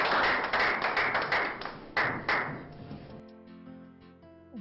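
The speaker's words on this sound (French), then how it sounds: "Vos applaudissements, s'il vous plaît." Wedding guests clapping at an evening celebration, a burst of several claps and slaps that thins out and fades after a few seconds, moderately close, with a light ringing tone at the end.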